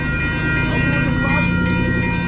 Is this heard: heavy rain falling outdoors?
no